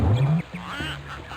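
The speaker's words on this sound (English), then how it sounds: "There's the duck again." Cartoon duck quacking in the Putt Putt Saves the Zoo video game, a few nasal quacks in quick succession, close and fairly loud with a game music bed underneath.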